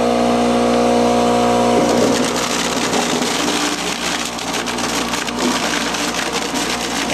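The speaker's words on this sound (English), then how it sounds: "this crusher is an old garden composter. It has a continuous service motor." An old garden composter with a continuous-duty motor hums steadily, then apples drop in and the hum gives way to loud, dense grinding and crunching as the fruit is crushed for cider, close by.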